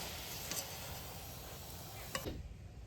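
Gulab jamun frying in hot oil make a steady, dense sizzle throughout, with a couple of faint clicks as they are stirred. No one speaks.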